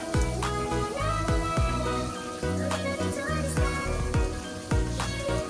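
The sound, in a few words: fish dropped into boiling sauce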